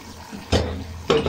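Chopped tomatoes drop into a pot of goat lungs cooking on the stove, two quick close splashy bursts of sizzling a moment apart.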